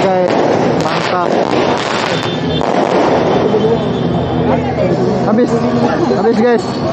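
Fireworks at a night market in Melaka crackle and pop loudly in rapid bursts while a crowd chatters and murmurs nearby throughout.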